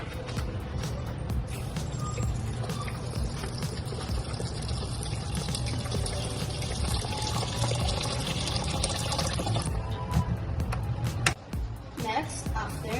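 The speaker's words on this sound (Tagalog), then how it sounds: "we are going to be pouring water on the level of 5 indicated on the rice pot." Water pours steadily into a rice pot holding five washed cups of rice, filling it to the level-5 mark; the continuous flow sits under a loud, noisy background.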